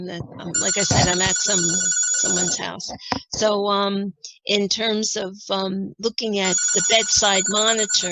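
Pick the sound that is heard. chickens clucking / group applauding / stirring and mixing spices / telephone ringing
telephone ringing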